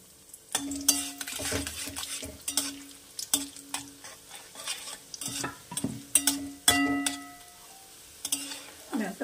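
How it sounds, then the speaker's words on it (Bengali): Raisins fry in hot mustard oil in a wok, giving a soft steady sizzle broken by frequent scraping stirs and sharp clinks of a utensil against the metal, with no voices. "কড়াইতে তেল গরম হয়ে গেছে, আমি কটা এই যে কিশমিশ দিয়ে দিচ্ছি, ভেজে তুলে রাখবো।"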